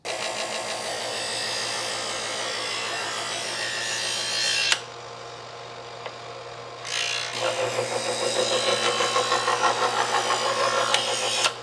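Motor of an electric knife sharpener humming steadily, with a knife blade rasping through the slots in repeated passes, then a brief quieter lull before the grinding strokes resume in a regular rhythm.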